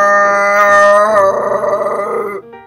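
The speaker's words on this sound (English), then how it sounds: "that's the sound a moose makes. I'm gonna play the tape" A recorded moose call played from a tape during a shadow puppet theatre show, a loud, sustained, wavering moan that holds its pitch and then trails off, with no talking over it.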